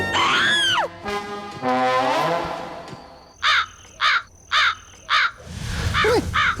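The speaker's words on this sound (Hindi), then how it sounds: "कमीने कौवे" Crow cawing in a Hindi comedy film scene, four loud, evenly spaced caws close by, following drawn-out strained vocal sounds from a person.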